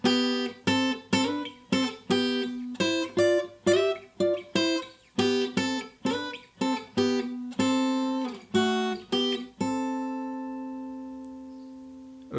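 A guitar plays a song's melody harmonized in thirds, a steady run of plucked two-note picks with a clear rhythmic pulse, ending on a held chord that rings out for several seconds, close and alone without talking.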